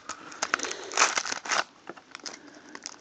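Crinkling plastic and cardboard packaging of a Tomica die-cast car being opened, several close crackling bursts and rustles in irregular bursts.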